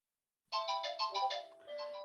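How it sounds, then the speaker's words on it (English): A phone ringtone chirps in a quick series of repeated electronic tones, fairly faint, with a short pause before the pattern resumes. "Hang on, I gotta get the phone over here."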